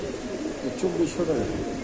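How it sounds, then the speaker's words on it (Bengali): Young racing pigeon chicks cooing softly in a low, throaty burble, close by over steady background noise. "এখানে আছে কিছু বাচ্চা রেসার কবুতরের বাচ্চা"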